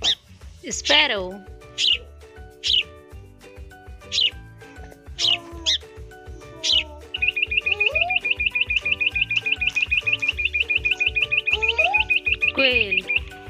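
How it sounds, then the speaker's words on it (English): Sparrow chirping: a series of short, bright chirps at a steady pace, then a long, fast, even trill near the end. Mid-distance, fairly loud and heard alone over a faint steady background tone. "Sparrow."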